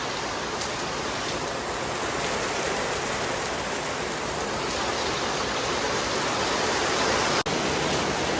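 Steady rain falls in Panama, a continuous, even hiss of drops that stays the same throughout with no voices.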